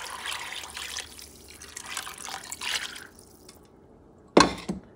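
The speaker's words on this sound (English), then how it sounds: "And I'm going to add water." Water is poured into a pot of black beans for feijoada, a rushing splashing flow for about three seconds, then a sharp louder splash near the end, with no talking.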